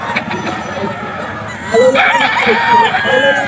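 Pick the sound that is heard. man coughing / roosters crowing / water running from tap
roosters crowing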